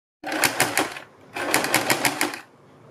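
Sewing machine stitching a strip onto a kurti neckline in two short rapid bursts, each about a second long with a brief pause between, close and clear.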